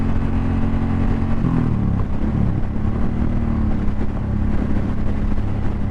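A Suzuki Boulevard M109R cruiser motorcycle on a test ride: a steady, loud low engine drone with a rumbling exhaust, and a noticeable gear shift or change in revs partway through.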